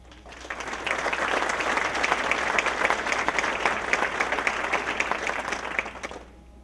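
An audience at an inauguration ceremony applauds warmly, a dense, steady clapping that swells in, holds for several seconds and fades out.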